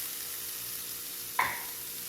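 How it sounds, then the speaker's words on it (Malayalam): Chopped garlic sizzles in melted butter in a pan for garlic shrimp, a steady close hiss of frying broken by one sharp clink of a utensil partway through. "ഇനി വെളുത്തുള്ളി ഈ ബട്ടറിൽ കിടന്ന് നന്നായി മുരിഞ്ഞ് വെക്കാം"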